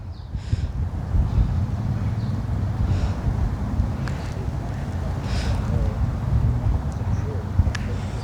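Wind buffets the microphone on a sunny winter day along a London high street in Tooting, a steady low rumble running throughout with faint street sounds underneath.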